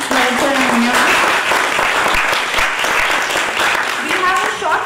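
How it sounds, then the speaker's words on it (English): A seminar audience gives a loud round of applause, sustained dense clapping filling the room, with a few voices and cheers rising briefly over it. "a loud round of applause for London sir and Ananya ma'am."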